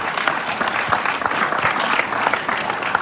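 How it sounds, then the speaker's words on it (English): A crowd at a youth flag football awards event applauds loudly and continuously, with many hands clapping in a thick, steady roar at close range. "let's everybody give a round of applause to these young men"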